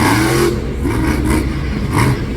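A monster truck engine revs loud and close while the truck takes a 180-degree turn on a narrow track, its roar surging in rough pulses with rattling.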